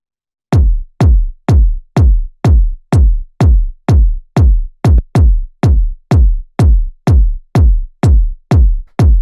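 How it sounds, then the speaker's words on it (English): Tech house kick drum sample: big, fat, boomy, slightly clipped kicks thump alone in a steady four-on-the-floor pulse, about eighteen loud hits with no other sounds. "So this is tech house kick"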